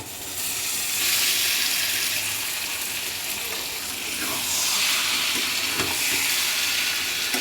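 Soybean chunks and potato fry in hot oil, giving a loud, continuous sizzling hiss that swells as they go in, with a few soft clicks of stirring; no speech.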